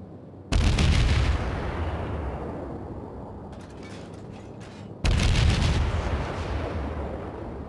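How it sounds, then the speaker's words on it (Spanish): Two heavy booming salvos of naval gunfire from a Kiev destroyer in World of Warships, each a loud broadband blast with a long rumbling decay, separated by a few seconds of lower rumble and faint mechanical clatter. "pues voy a disparar"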